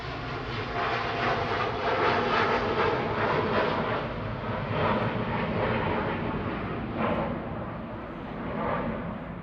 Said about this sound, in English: Qatar flight 22 heading back to Doha, A7BHC 787-9 Dreamliner.